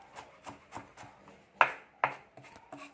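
Knife chopping onions on a board in a home kitchen while cooking pancit bihon, a series of sharp, close cuts with two louder strikes in an uneven rhythm, no talking.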